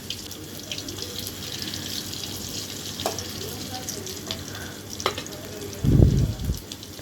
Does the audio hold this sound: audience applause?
no